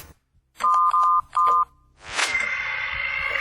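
Telephone tones in a sci-fi audio drama: a few short electronic beeps like dialing, then a rising burst into a steady ringing tone, loud and close with no voices.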